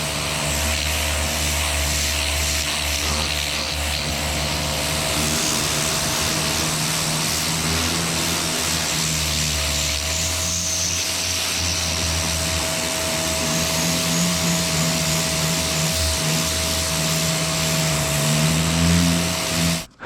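A pressure washer fitted with a turbo nozzle blasts paint off a Ford Galaxie, producing a loud, constant roaring hiss with a droning motor hum underneath that runs the whole time without a break.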